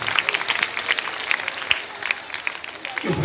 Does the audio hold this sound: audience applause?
yes